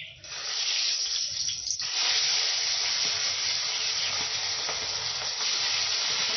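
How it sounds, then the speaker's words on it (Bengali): Aair fish frying in hot salted oil gives a steady, loud, close sizzle and hiss. A sharp crackle near the start gives way to continuous spitting with no voices. "আমি এখন বানাবো আইড় মাছটা ভেজে নেব"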